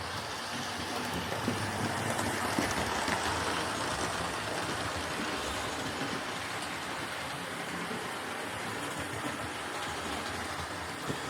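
A Dapol Hinton Manor model steam locomotive runs on track, giving a steady, faint rumbling whir that continues evenly throughout with no talk.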